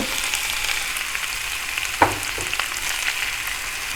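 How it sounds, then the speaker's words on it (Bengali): Rice tossed with chicken in a hot pan for restaurant-style chicken fried rice, a steady close sizzle of frying with a brief scrape of stirring, no voices. "তারপর এর মধ্যে আমি ভাতগুলো দিয়ে দিব"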